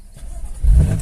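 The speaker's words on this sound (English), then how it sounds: "put your foot on the brake and start the vehicle" A 2018 BMW M3 engine starting: after a quiet moment the engine cranks and catches with a deep, loud low rumble that settles into a steady idle, close by.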